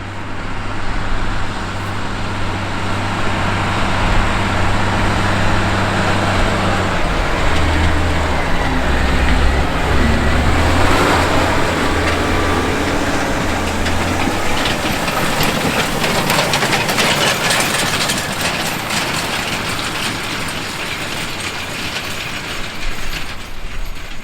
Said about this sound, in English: The model 9R490 is part of the all-new 9 series of articulated four-wheel drive tractors from John Deere